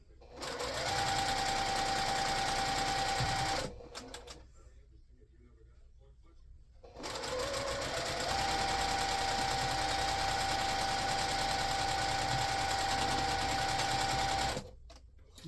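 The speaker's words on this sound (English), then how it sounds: "it's easier for me to sew from this side" A sewing machine stitches a quilt block seam in two long bursts of steady whirring motor hum, near and loud, separated by a short pause of quiet handling.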